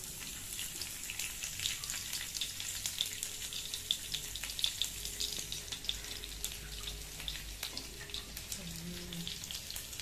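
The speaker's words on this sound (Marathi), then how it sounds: "त्याच्यानंतर लसूण टाकणार आहोत" Garlic dropping into hot oil with frying cumin seeds, a steady close sizzle and crackle in a pan for Maharashtrian besan jhunka, with faint water-like hiss and occasional stirring taps throughout.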